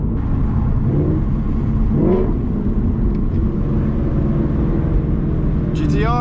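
Deep, steady V8 exhaust rumble from a modified Mustang GT, loud and constant from inside the car, with a voice briefly heard near the end.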